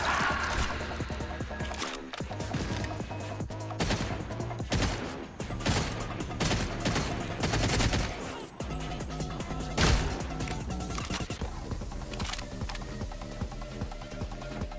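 Assault rifle fire against cultists in a video game, rapid crackling bursts mixed with crashes and dense layered game sound and music, continuing throughout.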